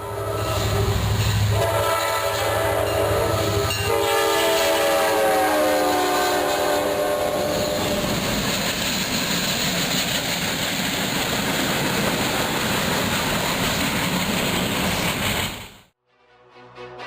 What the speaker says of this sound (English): an NS locomotive erupted in flames while passing through Richland